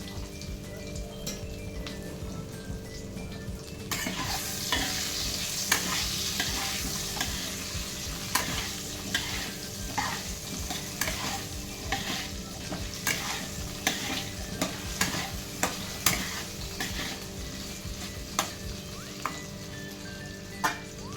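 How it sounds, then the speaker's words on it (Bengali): Potatoes, seasoned with salt and turmeric, fry in leftover fish-frying oil while a utensil stirs them. A steady close sizzle runs throughout, with frequent sharp clicks and scrapes from the stirring. "ওই মাছ ভাজার তেলটার মধ্যেই এবার দিয়ে দেবো আলুগুলো"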